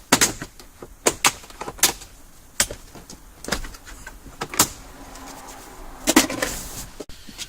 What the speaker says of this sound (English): Plastic tool, remove the side panel.